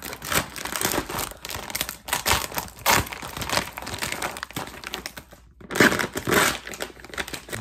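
A knife slits and tears through the crinkly plastic packaging around a 5x8 thin, shaggy rug: close, continuous crumpling and ripping with a few brief pauses, no voices.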